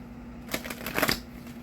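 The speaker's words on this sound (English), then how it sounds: "One more shuffle here." A deck of spiritual reading cards gets a brief riffle shuffle: a quick burst of papery flutters and snaps, close and fairly soft, with no talking.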